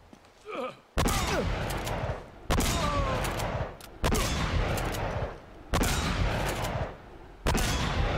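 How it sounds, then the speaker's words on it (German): Bursts of gunfire from the video game Uncharted come in several loud, dense volleys, each a second or so long, separated by brief lulls, close and harsh. "Im Laufen trifft er jeden einzelnen Schuss"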